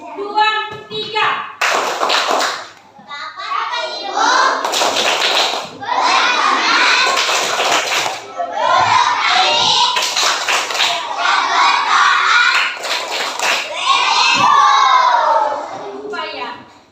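Classroom of elementary children chanting the 'tepuk pulang' clapping song together, loud bursts of rhythmic hand claps mixed with excited chanting voices and shouting, continuing throughout.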